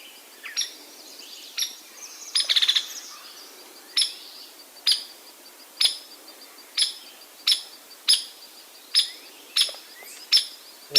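A hairy woodpecker gives a series of high, dry single-note calls, about a dozen sharp evenly spaced pips, with one brief rattling burst early on, loud and clear against a quiet background.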